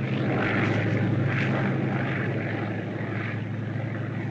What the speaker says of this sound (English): Scouting plane.